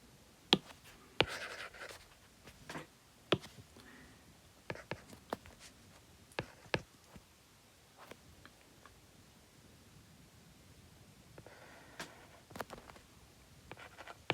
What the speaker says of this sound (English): I will write here